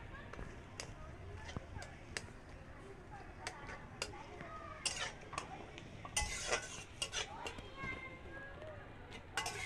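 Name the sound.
stirring ginger-garlic-onion paste in boiling water in a pot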